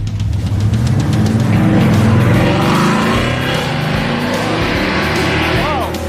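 A drag car with a supercharged 707-horsepower Hellcat engine, giant rear tires and skinny fronts roars as it accelerates hard, loud and close with a brief squeal of tires, and voices faintly mixed in.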